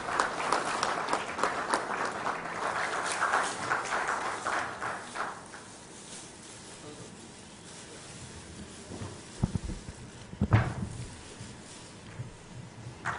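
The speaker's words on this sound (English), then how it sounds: "A round of applause is requested from the audience." An audience at a Goa IT policy launch event gives a round of applause, a moderate burst of many hands clapping for about five seconds, then scattered claps and room noise.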